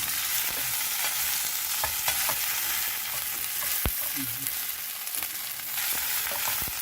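Okra pieces frying in oil while being stirred, for an Indian bhindi fry: a steady, dense sizzle with frequent scraping clicks from the spoon. It runs without a break and without talk.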